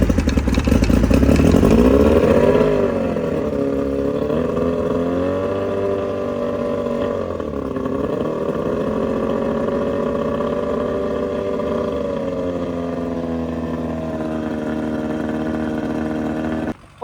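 A 14-foot Carolina Skiff's outboard motor runs on a test ride, loud and revving at first, then settling into a steady droning hum that continues until it cuts off at the end.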